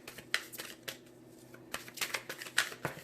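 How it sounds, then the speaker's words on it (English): A deck of tarot cards being cut and shuffled by hand, giving a string of crisp papery flicks and riffles, close and fairly quiet, with no talking. "I think I'm going to cut the deck."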